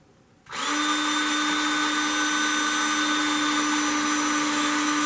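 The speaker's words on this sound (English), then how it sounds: "I'm just using the drill so that I can" A power drill runs during assembly of a Trumpeter 1/700 Dreadnought model ship kit. It starts after a brief quiet moment, then holds a loud, steady, close whine with no break to the end.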